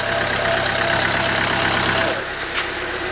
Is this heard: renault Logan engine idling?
yes